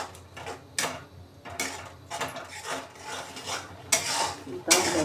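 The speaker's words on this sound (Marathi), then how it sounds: "आता त्याची फ्लेम मीडियम टू हाय करून आपण हे सतत हलवत राहायचं" A spoon is worked through a thickening orange burfi mixture in a pan, giving repeated soft scraping and stirring strokes at an uneven rhythm, close and fairly quiet.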